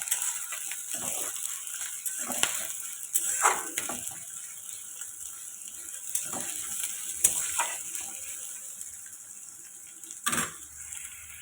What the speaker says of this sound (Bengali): পেঁয়াজটা দিয়ে দিয়েছি ভাজা হতে দেবো